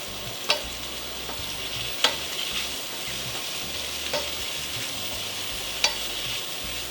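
Chicken sausage sizzles in a frying pan as a utensil stirs it, with a soft continuous fry broken by a few sharp scraping clicks against the pan.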